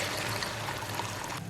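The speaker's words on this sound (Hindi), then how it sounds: "2 कप चावल है तो 4 कप पानी इसमें ऐड कर रही हूँ।" Water poured into a pot of rice, four cups' worth, a brief steady close pouring stream that eases off at the end, with no voices.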